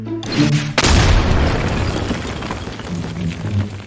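A bomb explodes in the video game Garry's Mod, a sudden loud boom with a crackling, rumbling tail that fades slowly over several seconds.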